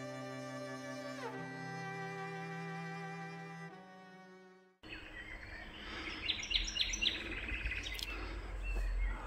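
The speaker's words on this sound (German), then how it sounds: "Hört ihr das? Nur Vögel hier, ansonsten Ruhe." Birds singing in the evening around 21:30 near a quiet motorhome parking spot by the old town of Tangermünde, a chorus of chirps and tweets that follows a sustained tonal sound with no talk.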